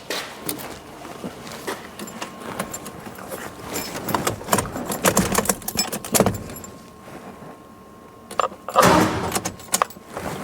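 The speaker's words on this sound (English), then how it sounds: "I'm gonna go in the vehicle and turn the key on." Keys jangle and clink near the ignition of a 39-year-old Ford truck that cranks but won't start, with irregular metallic rattles and knocks over a steady low hum and a faint tone.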